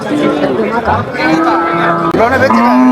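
Cattle low repeatedly amid a busy cattle market in Netrokona, deep drawn-out moos rising over steady crowd chatter and voices nearby.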